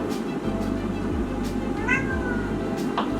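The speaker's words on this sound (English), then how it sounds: "And there's my cat." A pet cat meows once, close and clear, in a home kitchen over a steady low background hum, with no talking.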